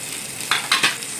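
Water hits a hot tempering in a cooking pan, sending up three quick sharp sizzling bursts over a steady background hiss, close and brief.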